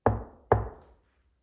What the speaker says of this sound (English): What if I knock back like Bigfoot